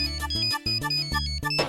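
A phone ringtone plays an incoming call, a looping electronic melody of repeated bright tones that pulses steadily and loud for nearly two seconds, with no voices.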